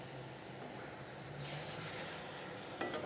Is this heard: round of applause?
no